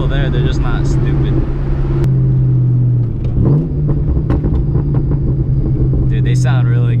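A supercharged car with a loud exhaust rumbles at close range, with a few sharp exhaust pops and crackles scattered through the idle as a person talks over it.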